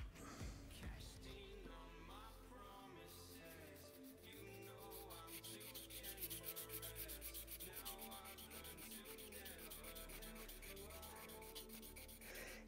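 A Lishi 2-in-1 lock pick is sanded on 800 grit sandpaper, making quiet, repeated rasping rubs in an uneven back-and-forth rhythm.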